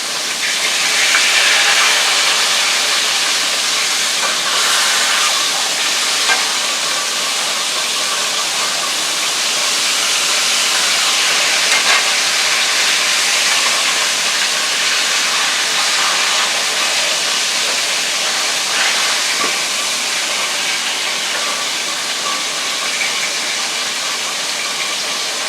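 Pork chops fry in a pan with a loud, continuous broadband sizzle, a steady hissing roar that holds evenly throughout with no voices.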